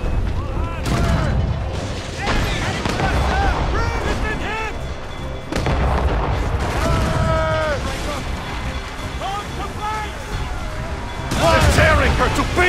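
Ship cannons firing during a naval battle in Assassin's Creed Rogue, heavy booms breaking out repeatedly amid shouted crew orders, creaking rigging and battle noise, with voices talking over much of it.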